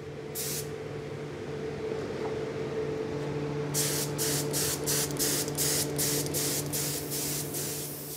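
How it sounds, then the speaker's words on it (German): An aerosol can sprays scratch-resistant universal clear lacquer onto a carved wooden carnival mask, first one short hiss, then a run of about eight quick hissing bursts over a steady low workshop hum. "sprüht einen Universal-Schichtlack auf. Der ist kratzfest und schützt die Farbe."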